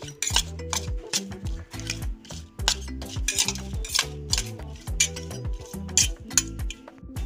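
Fish pieces are tossed by hand with salt and turmeric in a metal bowl, giving repeated clinks and scrapes against the dish in a steady rhythm, close and clear, with low tonal music underneath.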